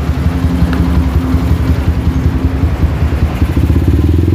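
A motorcycle engine, with the bike up on its stand, revs steadily and loud and close, its low throbbing pulse running throughout, with no talk over it.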